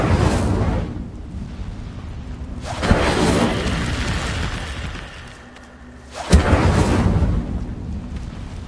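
The Incendio fire spell cast in Hogwarts Legacy, heavy roaring fiery bursts that swell loud, fade to a low rumble, and erupt again with a sharp crack, with no voices.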